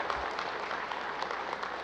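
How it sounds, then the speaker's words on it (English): A crowd at an Armed Forces of the Philippines change-of-command ceremony applauds the outgoing Chief of Staff, a soft, even wash of distant clapping that holds steady and fairly faint throughout. "A well-deserved round of applause for the outgoing Chief of Staff, General Andres Centino."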